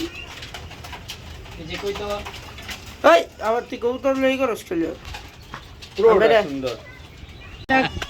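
Pigeons cooing up high near a lakeside spot where chickens are laying eggs, several soft, rolling coo phrases repeating close by, with a faint voice heard briefly.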